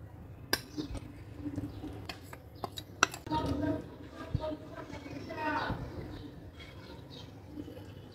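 Dry ingredients folded into a one-egg cake batter in a bowl, with soft scraping and a few sharp clinks of a utensil against the bowl, quiet and close, under a voice talking.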